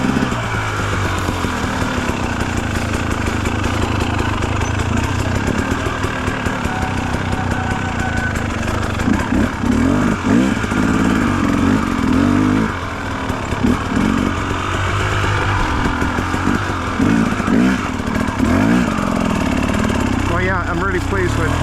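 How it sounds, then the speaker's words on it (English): A rebuilt 2017 KTM 300 two-stroke dirt bike engine runs on a trail ride, a raspy revving buzz that rises and falls throughout, close and continuous, with some talk over it. "I'm really pleased with how the bike's running"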